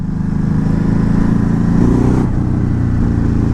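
A 2019 Ducati Hypermotard 950 being ridden, its engine droning loud and steady close to the rider, with a slight swell and drop in tone partway through.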